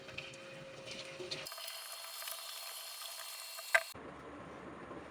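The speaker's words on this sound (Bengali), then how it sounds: "তো আলুগুলো ভাজার জন্য আমি একটা তাওয়ার মধ্যে তেল গরম করতে দিয়েছি" Potato slices for French fries dropped into hot oil in a tawa, giving a steady broadband sizzle and bubbling throughout, with a brief sharp clink near the end.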